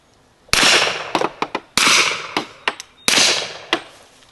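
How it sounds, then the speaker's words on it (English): Several loud, sharp gunshots from a Rock Island Armory 2011 pistol firing .40 Smith & Wesson training ammunition into dirt outdoors, in uneven bursts with brief echoing decays between them. "This is some training ammo, 40 Smith & Wesson. Let's put a couple rounds in the dirt."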